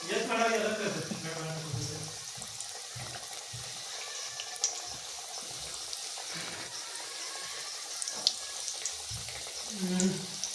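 Potato bhaji frying in hot oil gives a steady close sizzle and bubbling throughout, with occasional stirring clinks and a person talking over it near the start and end.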